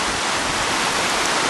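A swollen brook runs high and overflowing after heavy overnight rain, a steady close rush of broadband water noise with no pauses.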